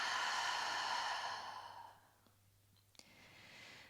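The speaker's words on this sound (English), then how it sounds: "and then exhaling it out." During a gentle yoga session, a slow breath is exhaled through the mouth, a soft, airy, close exhale that fades over about two seconds into quiet room tone, followed by a faint click.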